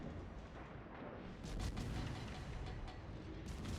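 Guns of the U.S. Tier IX cruiser Vallejo fire salvos in a naval video game, producing a dense, continuous rumble of booms that swells slightly partway through, with no voices.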